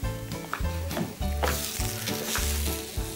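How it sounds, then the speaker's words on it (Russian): Vegetables and chicken sausages fry on a grill with a steady, close crackling sizzle. No one speaks, and music with a regular beat plays underneath. "На другой стороне мы будем обжаривать овощи."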